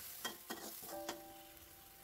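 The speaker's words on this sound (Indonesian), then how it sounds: "Ini kita tumis sampai harum dan berubah teksturnya ya." Petai beans stir-fried in a pan give off a steady soft sizzle, broken by several sharp scrapes of a spatula against the pan at a slow, uneven pace.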